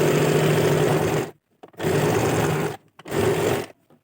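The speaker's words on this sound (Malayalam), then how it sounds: "എന്നിട്ട് നമുക്ക് വലിച്ച് പിടിച്ചിട്ടൊന്ന് സ്റ്റിച്ച് ചെയ്യാം." A sewing machine runs in three steady bursts, stitching stretched elastic onto fabric for a DIY dress. The motor hum is loud and close, with short pauses between runs and no talking.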